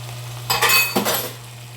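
A spoon scrapes and clinks against a pot twice while minced garlic is stirred into beef chili, two short metallic strokes close by over a low steady hum.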